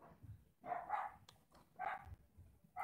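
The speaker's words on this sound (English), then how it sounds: "Oh, those dogs." Dogs bark in the battle game Totally Accurate Battle Simulator, several separate barks at intervals, fairly quiet with no talking.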